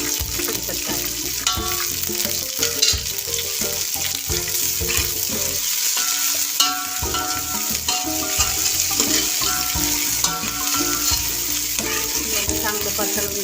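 Coriander, garlic greens and curry leaves fry in hot oil, a steady loud sizzle with clattering stirring strokes running throughout, close and without talk.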